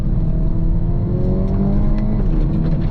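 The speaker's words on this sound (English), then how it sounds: "Nice little pop of the exhaust" A 2025 Hyundai i30 N hatchback drives hard, its engine droning loudly with a rising rev and a quick exhaust pop as a gear upshift lands, heard close from inside the car.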